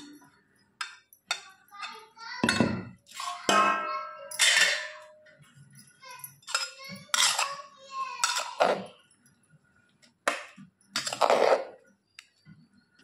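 Ground ivy gourd chutney is scooped from a bowl onto a plate, giving clinks and scrapes of utensils against dishware, heard alongside intermittent speech.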